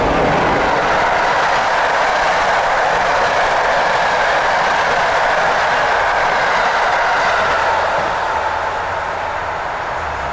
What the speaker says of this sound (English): So here we are at the Radost train station, and we're waiting for a train to take us down to Otwock